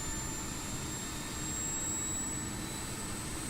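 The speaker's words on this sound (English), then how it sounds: "Here's the APU start up right here." Airbus A320 auxiliary power unit spooling up in Microsoft Flight Simulator on Xbox, a steady loud turbine roar with a thin high whine held throughout, airport ambience of other airliners blended underneath.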